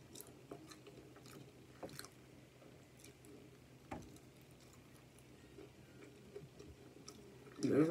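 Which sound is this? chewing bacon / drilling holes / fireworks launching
chewing bacon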